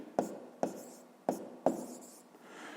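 Numbers are written by hand during a sixth-grade maths exercise, with four short, faint pen or pencil strokes scratching on paper at an uneven pace close by.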